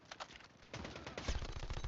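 Rapid bursts of Switchblade SMG gunfire in the mobile shooter COD Mobile, with a few scattered shots first and then a dense, steady stream of automatic fire up close.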